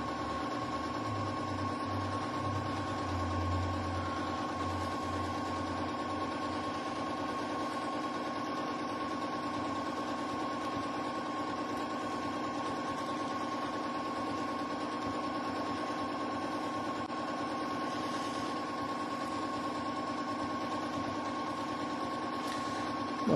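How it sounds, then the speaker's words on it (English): Janome M7 sewing machine running steadily during free motion quilting, a continuous even hum and rapid stitching drone that holds at a moderate level throughout with no talk. "I really like the sound and feel of this machine for free motion quilting"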